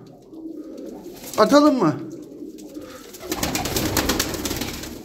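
Pigeons in a loft coo and shuffle, with a brief human voice speaking near the start and ongoing rustling, wing movement and bird sounds through the second half.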